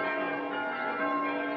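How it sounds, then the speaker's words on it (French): Church bells ring in New Caledonia to mark the news of the Normandy landings, a sustained, steady metallic tone with rich overtones and no voices. "Les cloches sonnent"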